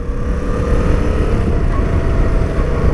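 A twin-cylinder engine on a 2017 Yamaha Tracer 700 motorcycle thrums steadily and smoothly, a continuous low rumble close by with no voices.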